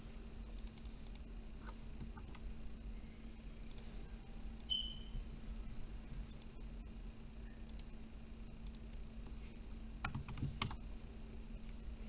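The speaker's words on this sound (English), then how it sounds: "I'm going to go ahead and type in Knucklehead." Quiet clicking of keys as someone types on a computer keyboard, a steady patter of light taps over a faint constant hum, with a slightly busier cluster of keystrokes near the end.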